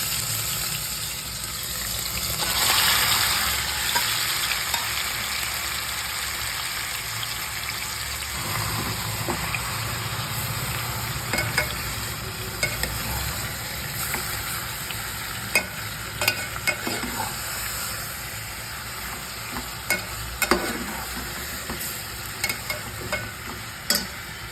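Chicken pieces for a Bengali steamed chicken curry (goyalondo style) fry and sizzle in a pan, stirred with scraping strokes that repeat and grow sharper over time, the steady frying hiss close and continuous.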